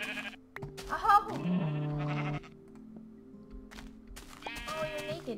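Minecraft sheep bleats, two or three short wavering calls, loud and close, with quieter gaps between them.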